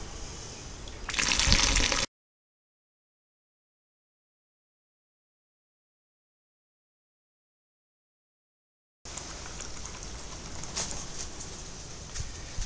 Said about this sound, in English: Time for the batch sparge. And which is 19 litres, around 76 degrees.